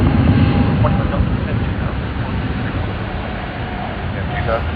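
A Fiji Airways airliner at Sydney Airport gives a loud, steady jet roar that stays constant throughout, with a voice speaking over it.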